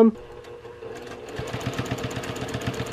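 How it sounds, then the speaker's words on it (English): A sewing machine stitches fast and steady during free-motion quilting of a small heart collage quilt, its needle hum rising after a brief pause and continuing loud and close. "so I'm free motion quilting my bits down"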